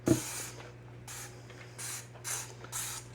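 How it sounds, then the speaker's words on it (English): A brief knock, then four short hissing bursts from a spray bottle of dish soap sprayed onto a sink, spaced about half a second apart, close by. "I'll spray my sink down because dirty dishes have been sitting so long"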